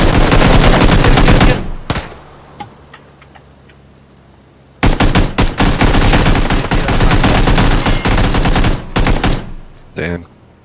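Bursts of automatic gunfire in the battle royale game PUBG, loud and rapid, in two long volleys separated by a quieter stretch, with a brief final burst.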